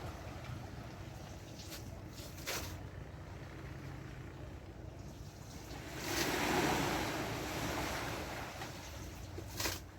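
Sea waves wash steadily along a beach beside a fish auction area where salted fish dry by the water, a continuous broadband surf with a swell of louder breaking around the middle and brief gusts of wind.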